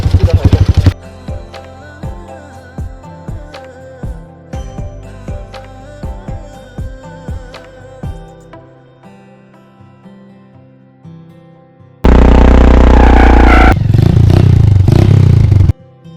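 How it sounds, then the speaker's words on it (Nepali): Motorcycle burnout: after a stretch of music, the bike's engine roars in loudly at full revs with the rear tyre spinning, a dense, harsh wall of noise lasting several seconds and then cutting off. "बर्न आउट हुन्छ"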